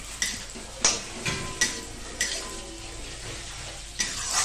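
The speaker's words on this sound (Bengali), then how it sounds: "পোস্তটা দিয়ে এবার সুন্দরভাবে খুন্তি দিয়ে নাড়িয়ে চাড়িয়ে পোস্তটাকে ভালোভাবে ফ্রাই করতে থাকবো" Poppy seeds frying in a pan while a spatula stirs them, giving a low, continuous sizzle punctuated by regular scraping strokes, close and fairly quiet, with no one speaking.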